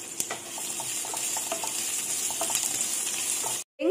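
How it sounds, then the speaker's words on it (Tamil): Sliced onions sauté in a pan for semiya upma, a steady close sizzle with faint stirring taps throughout, cutting off abruptly near the end with no talking. "சேர்த்துட்டு இந்த வெங்காயத்தை நல்லா வதக்கி விட்டுறலாம்."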